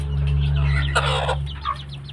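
Chickens cluck repeatedly on a Thai farm rearing fighting-breed fowl, close and fairly loud over a steady low mechanical hum, with a burst of busier clucking partway through.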